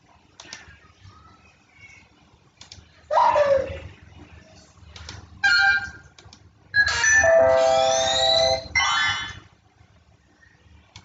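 Ringtone previews on a Samsung Galaxy phone: several short melodic electronic tones play in separate bursts, the longest a warbling chime of a few seconds, each loud and clear against a quiet background.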